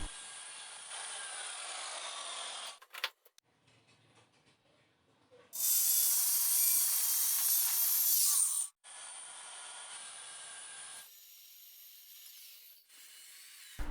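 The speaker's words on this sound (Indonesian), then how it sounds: "Lalu saya potong sesuai dengan yang sudah saya ukur tadi menggunakan circular saw." A circular saw cuts a wooden board along a clamped straight guide, a loud, sustained high whine broken into separate cutting passes with short quiet gaps between them.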